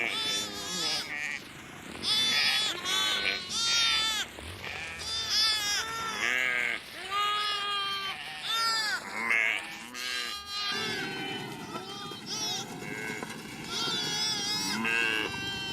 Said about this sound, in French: Pour rassembler des troupeaux de plusieurs milliers de têtes éparpillées dans le bush, les éleveurs utilisent des 4x4 et des motos.